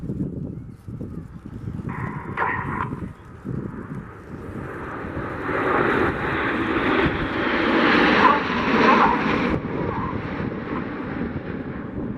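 Red Arrows display team jets sweep past at the Duxford air show, a broad roar that swells to a loud peak and slowly fades, with wind buffeting the microphone throughout.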